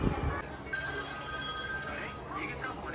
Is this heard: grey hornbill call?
no